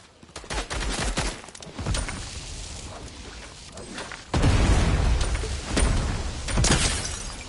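Gunfire in Fortnite: bursts of rapid shots and impacts, with a heavier blast partway through, loud and close over a steady rumble.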